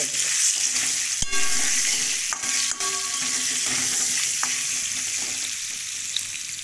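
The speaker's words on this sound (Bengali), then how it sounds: "আলুটাকে একটু লাল লাল করে ভেজে নেব।" Potato pieces sizzle steadily in hot oil, frying until reddish for a shankar fish curry, with a few sharp metallic clinks from a stirring utensil against the pan over the constant crackle.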